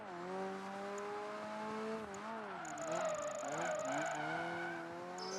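A racing car's engine in Project Gotham Racing 3 whines after a downshift into second gear, pitch rising and falling with throttle, plus a short burst of tyre squeal mid-way, fairly quiet.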